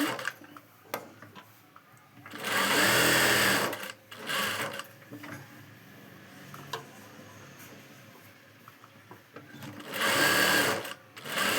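A sewing machine stitches a long frock made from saree fabric in two loud bursts of fast running, with quiet handling, soft ticks and fabric rustle in the pauses between.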